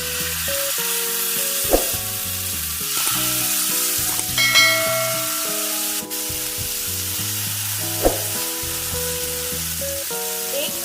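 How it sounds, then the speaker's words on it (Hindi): Pieces of tandoori chicken tikka sizzle loudly in hot oil over a high flame, a steady close crackle with a couple of sharp clunks as pieces drop in and get stirred. "अब हम चिकन ऐड करेंगे। एक पीस उठा के बड़े आराम से और बड़े प्यार से डालेंगे इसमें।"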